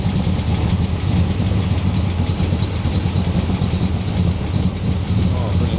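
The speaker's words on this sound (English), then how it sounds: "So the revs will come up a little bit on idle, but no, it's quite smooth for a lumpy V8." A 400 HP V8 engine fitted into an Austin A30 idles smoothly with a slight lumpy beat, a steady close low rumble that holds level throughout.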